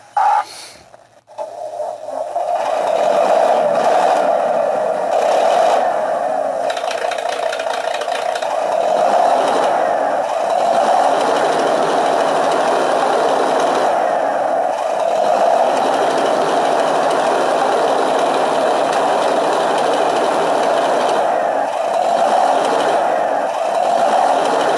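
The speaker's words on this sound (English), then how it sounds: "Okay, so I'm going to start the engine up." A Heng Long RC tank's simulated engine with its 6.0/6.1 smoke generator starts with a brief click, then settles into a steady, loud, rattling electronic drone that keeps running without pause.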